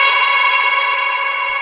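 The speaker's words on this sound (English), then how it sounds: "It's literally just high pass and a super long reverb." A vocal 'hey' sample run through a high-pass filter and a very long reverb, giving a sustained, bright, droning wash that holds steady and cuts off sharply after about a second and a half.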